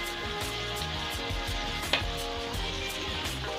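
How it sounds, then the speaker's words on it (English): Pepper sauce fries in a pan while being made for fries, a steady sizzle running throughout with rhythmic scraping and tapping of a utensil against the pan and one sharp clink near the middle. "Just have to allow it to fry."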